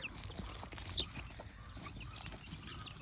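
Young free-range gamefowl chicks of old North Britain Muff stock cheep and cluck faintly outdoors, soft scattered calls over a low, steady background hiss with no talking.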